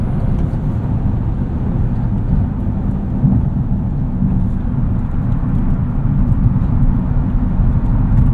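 A 2025 Hyundai Ioniq 5N electric all-wheel-drive car launches hard, heard from inside as a loud, steady low roar of road and drivetrain rumble that holds for several seconds with no talk.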